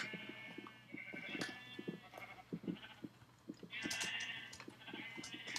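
Sheep in a video game bleat repeatedly at modest volume, short wavering cries in an irregular series alongside soft clicking game sounds.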